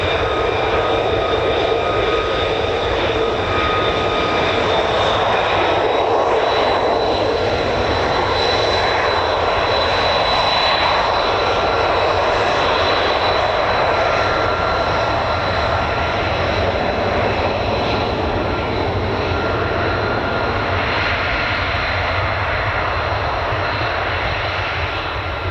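An F-35B stealth fighter's jet engine roars loudly and steadily at RAF Marham, a dense sustained rumble with a whining high tone that shifts slowly in pitch, filling the whole stretch without pause.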